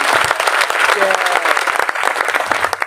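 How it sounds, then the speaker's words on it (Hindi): A crowd claps loudly at a political rally speech, a close, dense burst of many hands with sharp individual claps standing out, a few voices mixed in as the clapping carries on. "सही है तो जोरदार ताली बजाओ।"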